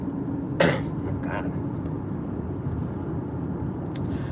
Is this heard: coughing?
yes